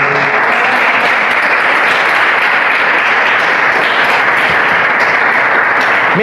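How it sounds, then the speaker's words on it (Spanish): A church congregation gives a loud, sustained round of applause, dense continuous clapping that fills the room without letup. "Denle un fuerte aplauso al Señor."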